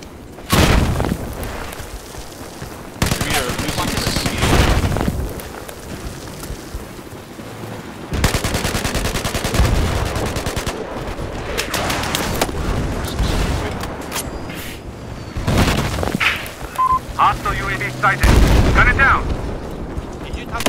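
In the game Battlefield 4, dense gunfire and explosions roll almost without a break, booming bursts and rattling shots near and loud, with a player talking over the din.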